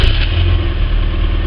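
A Rover car fitted with the BBC engine, the unit also used in MGs and Elises, runs loud and close with a steady low throbbing rumble and slight clatter, no talk over it.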